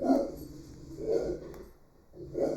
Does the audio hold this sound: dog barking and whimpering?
yes